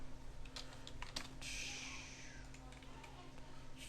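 Close keyboard typing at low level, a few scattered clicks and a short burst of keystrokes, with faint background hum.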